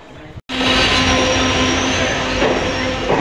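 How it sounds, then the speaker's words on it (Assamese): A train pulls into a station on the Rangia to Sarbhok line in Assam, a loud steady rumble with a sustained wheel tone and squeal, close by and heard alone after a brief cut at the start. "ট্ৰেইন আহি আছে ইটো চাইডৰ পৰা"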